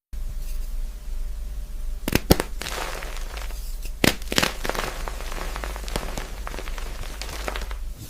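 AI-generated soap ASMR sound: steady crisp crackling and fine crunching with sharp snaps near two and four seconds, close and even, no voices.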